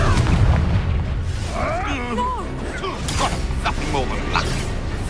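A Confringo fire-blast spell explodes in Hogwarts Legacy, a loud low booming burst at the start that rumbles on under game voices talking and crackling combat effects.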